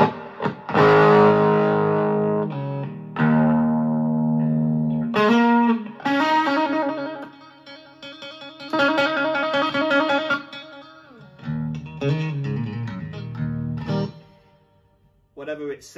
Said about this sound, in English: pedal number 2, overdrive distortion, I think it's more an overdrive effect